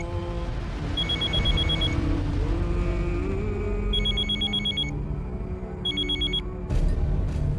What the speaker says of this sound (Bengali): দেখেছেন? এখনই ফোন আসতে হলো